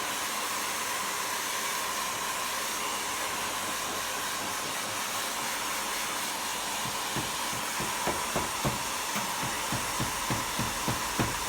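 A hot air gun blasts heat onto old paint to soften it before scraping with a putty knife, a steady loud airy roar throughout with faint tapping clicks near the end.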